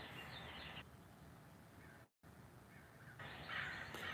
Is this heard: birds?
yes